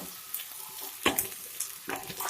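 Joha rice for veg pulao fries on a low flame in a pan, a soft sizzle broken by several louder scraping stirs of a spoon, close and fairly quiet.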